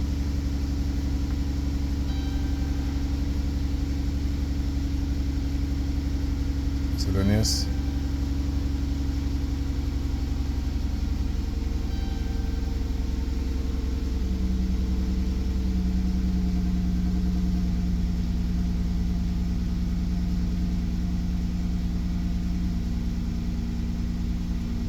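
A Chrysler Jeep Dodge car engine idles steadily with a low continuous hum and a faint whine, unbroken for the whole stretch, with one short metallic click partway through.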